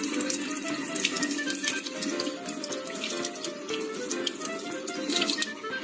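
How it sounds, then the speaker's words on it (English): Running water from a tap splashes steadily over soaked seeds held in cheesecloth, a continuous close hiss and patter with small drips. "now the main work that we need to do with these is to keep rinsing"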